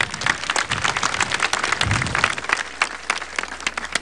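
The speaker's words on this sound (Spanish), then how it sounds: "para que también con mucho cariño lo recibimos con un fuerte voto de aplauso" An outdoor crowd at a regional event gives a president a warm round of applause, with dense, steady clapping that carries on throughout.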